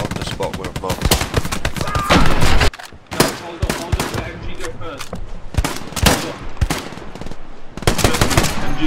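Machine gun fire in the World War II video game Hell Let Loose, loud, close bursts of rapid automatic shots with sharp gunshots and brief pauses, under occasional voices.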